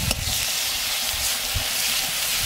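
Masala paste sizzling and frying steadily in a hot pan just before ground sour local tomato goes in, a continuous close hiss with faint stirring scrapes and no voices.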